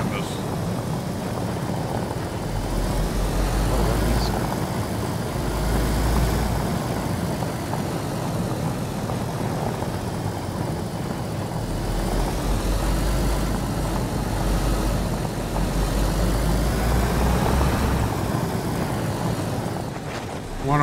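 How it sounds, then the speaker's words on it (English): A helicopter in DayZ on Chernarus, a steady loud rotor and engine drone that holds throughout with slight swells, with voices talking over it. "there's a heli right in front of us"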